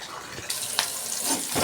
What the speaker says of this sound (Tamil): வெங்காயம் போட்டு தாளித்தா கொஞ்சம் வாசமாக இருக்குன்னு சொல்லுவாங்க